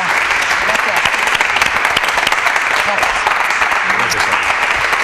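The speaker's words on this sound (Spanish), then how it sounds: "Gracias, un fuerte aplauso." A studio audience on a Spanish television variety show breaks into steady, loud applause that fills the whole stretch, with dense clapping and a voice speaking over it.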